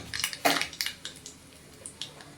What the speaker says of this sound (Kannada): ಎಣ್ಣೆ ಬಿಸಿಯಾಗಿದೆ, ಸಾಸಿವೆ ಹಾಕ್ತೀನಿ ಒಂದು ಸ್ವಲ್ಪ.